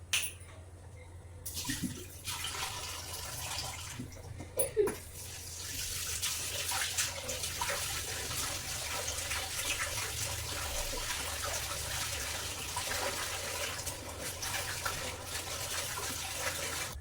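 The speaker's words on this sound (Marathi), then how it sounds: "मी चिकन इथं दहा मिनिटं पाण्यामध्ये ठेवलेलं होतं तर आपण पूर्णपणे वॉश करून घेऊया" Water runs steadily from a tap while raw chicken is rinsed, a constant splashing rush with a few clanks near the start.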